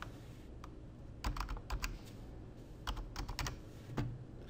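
Fingers tap digits for a one-time passcode on a keyboard, two quick bursts of light, close keystrokes with a final tap, quiet and with no talking.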